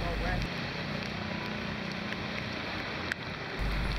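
Heavy tropical rain pours down in a steady, dense wash during a motorbike tour through Ho Chi Minh City, with wind buffeting and engine rumble blending underneath and a brief knock near the end.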